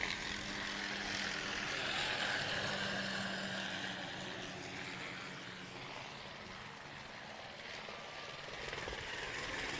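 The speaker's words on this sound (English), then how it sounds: "we'll now see our air wing flying past, led by the South African helicopter and the Gauteng helicopter" Police helicopters of the Gauteng air wing fly past at a public event, their steady rotor and engine roar filling the air, loud and broad, easing slightly as they pass overhead.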